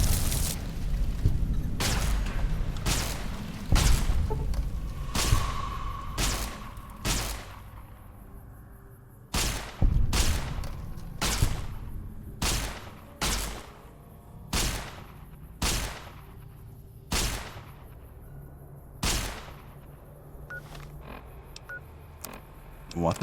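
Heavy anti-materiel rifle shots in the video game Fallout New Vegas, loud single booming reports spaced out in a steady series, about a dozen blasts, with a voice talking faintly between them early on.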